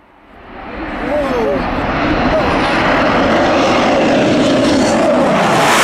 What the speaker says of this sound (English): this is a nice head-on view of a Tornado coming down the runway towards us